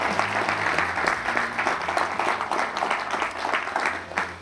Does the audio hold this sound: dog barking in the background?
no